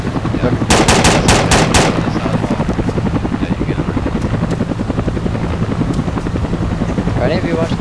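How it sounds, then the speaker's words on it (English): Automatic gunfire in the Arma II military video game: a quick burst of loud shots early, over a constant helicopter-like rotor drone, with a voice talking through. "We got fire coming down the hill a little bit from the north on this side of the wall."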